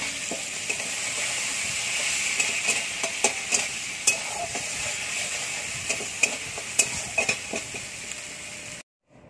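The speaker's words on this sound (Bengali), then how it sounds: "আদা জিরে বাটা, ভালো করে কষিয়ে নিতে হবে।" Ginger-cumin paste with chopped tomato is stir-fried in a pan, a close, constant sizzle broken by repeated scraping taps of a spoon, cutting off abruptly at the end.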